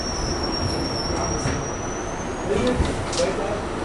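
A New York City subway D train rolls along the rails, heard from on board as a steady rumbling roar with a high wheel squeal drifting over it and occasional clanks near the end.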